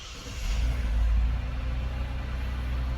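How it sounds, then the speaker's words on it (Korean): A Genesis G80 3.3 Prestige sedan engine starts up, swelling into a low rumble within the first second and then settling into a smooth, steady idle close by. "시동 먼저 걸어 보겠습니다"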